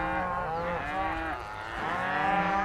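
Several cows on a working cattle ranch in open country moo in long, overlapping drawn-out calls, close and loud, one voice rising and falling after another.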